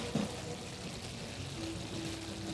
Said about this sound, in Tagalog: saka lagyan natin ng water